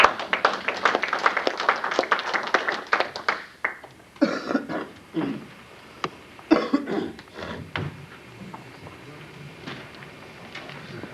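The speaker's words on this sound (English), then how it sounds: "let us give them the biggest applause." Scattered clapping from a conference audience for the final presenters, a lively burst at first that thins out into sparse individual claps, with coughs and small room noises as it fades.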